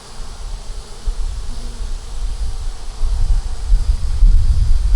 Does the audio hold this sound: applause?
no